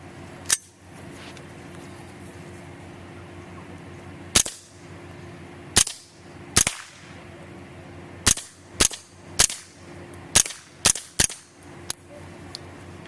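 A 16-inch CMMG .22 rifle fires Remington Subsonic rounds through a Huntertown Arms Kestrel 7.62 suppressor, producing about a dozen sharp, muffled cracks, spaced irregularly at first, then in a quicker string, against a faint background hum.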